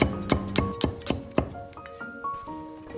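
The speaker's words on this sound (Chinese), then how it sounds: "2颗大蒜切成薄薄的片儿" A knife slices two garlic cloves into thin pieces on a cutting board, giving a quick series of sharp, close chopping taps that slow toward the end, with faint ringing tones between the strikes.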